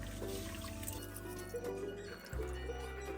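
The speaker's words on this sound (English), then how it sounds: "Mix that rice in, make sure you really try to wash it." Rice being stirred and washed by hand in a bowl of water, with soft sloshing and swishing and a few drips, fairly quiet and close.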